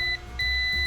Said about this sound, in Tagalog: Ngayon ay subukan natin sa buzzer.